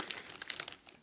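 Plastic wrap crinkling close by while a boxed ASUS or TP-Link router is unboxed, a brief, soft run of crackles and rustles.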